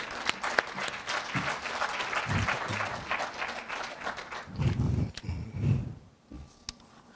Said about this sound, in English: a warm round of applause for our respondent this afternoon, Professor Lesego Malepe